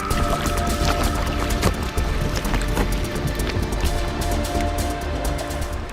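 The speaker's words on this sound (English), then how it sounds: "The sound of bubbles popping, the sound of ice grinding against itself." Brash ice in an Antarctic cove crackles with countless tiny bubble pops and soft grinding, a dense continuous fizz with scattered sharper clicks, close and steady throughout.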